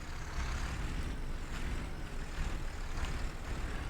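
A Deutz tractor reversing in Farming Simulator 19 makes a steady, loud engine drone that holds evenly throughout, with faint rhythmic pulses on top.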